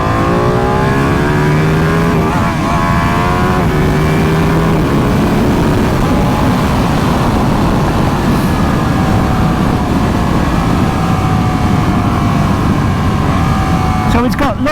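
A Ducati Panigale 959 engine pulls at full throttle in a loud, close, continuous roar with rising engine pitch and wind rush, heard from the rider's position; speech is also picked up.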